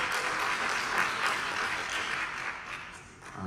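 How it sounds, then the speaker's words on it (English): Enthusiastic audience applause at a North Carolina public comment forum on redistricting election maps, a steady wash of many hands clapping in a large room that holds for several seconds before starting to fade. "we're getting a little carried away with the applause"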